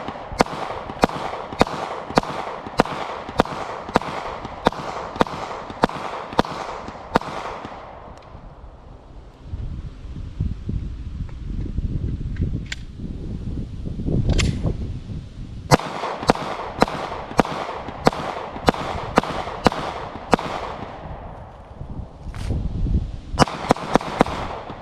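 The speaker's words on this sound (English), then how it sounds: "Here we go with the Glock Model 23." Glock Model 23 pistol, a .40 caliber handgun, fired outdoors at a range: a rapid string of about a dozen sharp, loud shots, a quieter windy pause with rumbling noise, then two more quick volleys of shots.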